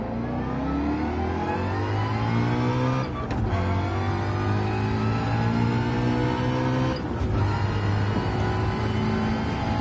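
A car engine in Gran Turismo 7 revs loud and close, the pitch climbing through the gears with two brief drops at shifts before rising again, with no talk.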